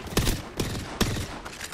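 Gunfire in a first-person shooter video game, a few loud reverberant shots spaced apart over a couple of seconds, with no talking.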